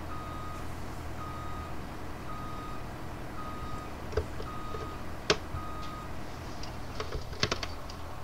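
Repeated reversing beeps from a backing truck in the Farming Simulator 2017 video game, evenly spaced short tones at steady volume over a low engine hum, with a few clicks and taps.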